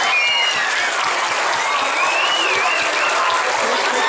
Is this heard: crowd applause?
yes